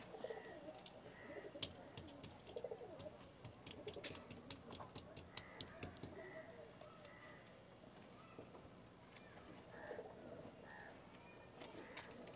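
Pigeons cooing in a breeding loft, repeated soft coos heard at moderate distance among scattered clicks, taps and wing or foot movements, with faint background noise throughout.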